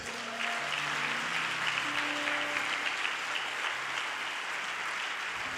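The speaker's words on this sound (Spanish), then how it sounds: "Denle un aplauso a Jesús." A church congregation claps steadily, with sustained applause throughout and faint tonal music or voices underneath.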